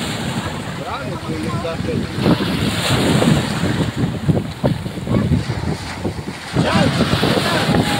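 Heavy waves crash and surge close by amid strong wind buffeting during night fishing on the coast at Batangas City, with a few voices speaking intermittently over the rough sea.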